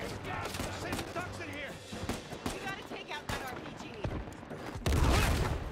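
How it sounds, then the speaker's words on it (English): Gunfire in the video game Uncharted 4 rattles in rapid bursts of sharp shots and ends in a heavy, loud volley, with people talking and exclaiming over much of it. "What are you shooting at, Elena?"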